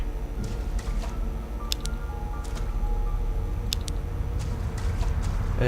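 Splashing and squishing footsteps through water in a flooded area in the Risen video game, soft irregular steps over a low background hum, with a few brief bright drips standing out.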